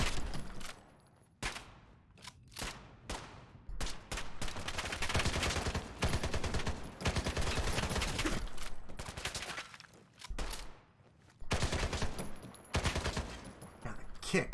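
Rifle bursts in modded Fallout 4, repeated rapid volleys with short pauses between them, fairly loud and crackling over a steady battle backdrop.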